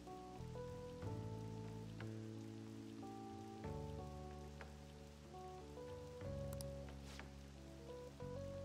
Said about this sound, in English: You know, Ren, you can go inside where it's not raining and finish the phone call in there